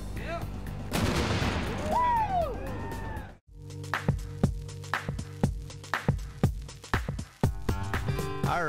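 A cannon fires with a loud blast and a burst of noise, followed by whoops and cheering, then a series of sharp rhythmic bangs and claps.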